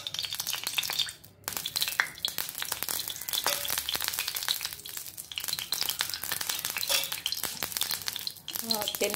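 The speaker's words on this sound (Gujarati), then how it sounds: "કડાઈની અંદર અંદાજે 3-4 ચમચી જેટલું તેલ લઈએ." Oil heating in a kadai for cooking gives off a steady crackling sizzle with frequent small pops, fairly faint, broken by a couple of brief pauses.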